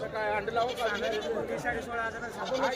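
Several goats bleat repeatedly and overlap one another, close by, at a goat market in Yenegur, Umarga, Dharashiv district, with a busy background of people chattering.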